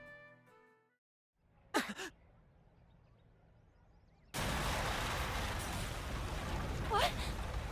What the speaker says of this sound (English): An explosion? And a big one.